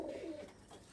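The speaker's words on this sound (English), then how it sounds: "Right now they're getting accustomed to their new pigeon friends." Pigeons coo softly in a loft as young birds settle in with new ones, one brief low coo in the first half-second, faint against quiet background noise.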